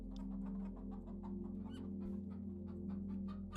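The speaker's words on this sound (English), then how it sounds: "she can hear the small, high voices" Hens clucking softly inside their henhouse, a steady low murmur of overlapping calls with occasional brighter chirps, continuous and moderately close.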